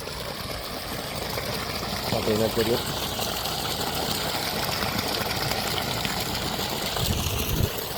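Water gushing from a 900W BLDC motor pump with a 63 mm outlet, a loud continuous rushing flow under a steady motor hum, with someone speaking briefly over it.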